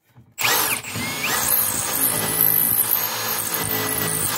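A power drill whines loudly and steadily, drilling into wood with a constant high buzz, after a brief quiet start.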